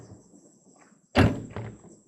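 A car door slams shut at a cemetery bonfire, one loud close thump followed by a second softer knock, with faint background noise and a steady high whine.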